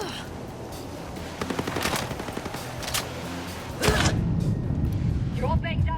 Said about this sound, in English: Sniper spotted. He's gonna shoot.